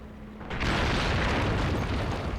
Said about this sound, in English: Yeah, that's the Panzer IV shooting